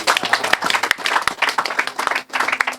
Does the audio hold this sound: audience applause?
yes